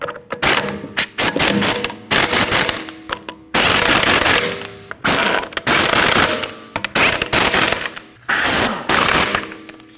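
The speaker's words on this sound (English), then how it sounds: "Reinstall your wheel over the studs and install your lug nuts. And you want to tighten those lug nuts in a star pattern." An impact gun tightens the lug nuts on a Ford Escape wheel in loud, close, rattling bursts, separated by short pauses between nuts.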